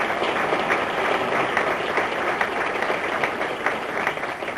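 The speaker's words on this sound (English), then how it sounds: "it's my pleasure to lead a round of applause honoring you tonight" A room of guests gives a round of applause honoring Mr. Guerin at an evening tribute, a dense, even clapping that holds steady throughout.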